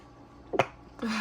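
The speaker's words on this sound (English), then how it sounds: "Sorry guys, I sneezed." A single quick, sharp sneeze bursts out close by, followed by a moment's quiet and then a voice starting to talk.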